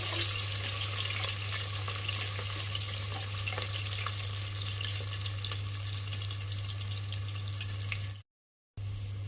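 Onions frying in a pan for a coconut milk soya pulao, a steady loud sizzling hiss that runs unbroken for several seconds before cutting out abruptly.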